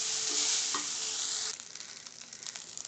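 Rice with garlic and oregano is tossed and fried in a pan, starting with a loud, bright sizzle and stirring, then dropping to a quieter, crackling fry.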